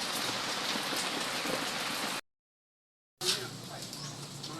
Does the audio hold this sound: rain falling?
yes